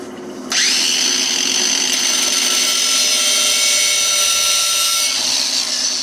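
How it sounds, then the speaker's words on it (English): A power tool burnishing brake rotors to stop brake noise: a loud, steady high-pitched grinding whine kicks in after half a second and runs on evenly to the end, with no talk. "I'll burnish the rest of it. So I'm going to start."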